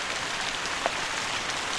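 Rain falls in a steady, soft hiss with no break and no talk, fairly quiet throughout.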